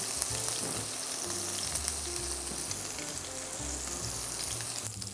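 Beef burger patties sizzle steadily in a hot pan, a loud, continuous close frying hiss with no voices.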